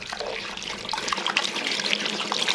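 Running water from a tap splashing steadily as freshly harvested walnuts are washed in a sink at a country house, continuous and close, with no voices.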